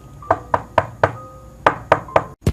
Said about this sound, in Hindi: तभी उसके दरवाजे पर खटखटाने की आवाज आती है